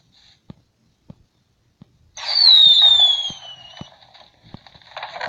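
Consumer fireworks set off together in a small backyard show, a few sharp distant pops followed by a loud sustained burst of crackling and a rising whistle lasting a few seconds, then scattered pops as it fades.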